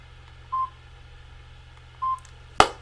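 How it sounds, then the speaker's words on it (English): A cheap mobile phone gives two short, thin beeps about a second and a half apart, then a sharp click-like burst at the end, with no talking over a quiet background hum. "You can probably tell from that noise just how bad that phone is."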